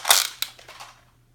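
A Nerf blaster fitted with an Excel scope fires an Elite dart: one sharp, close snap followed by a brief rattling click and a short fading tail, with no voices.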